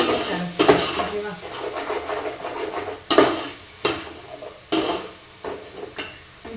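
Onion and ginger frying and being stirred in a pan for vegetable biryani, a steady sizzle broken by several sharp scrapes and clinks of a spoon against the metal pan.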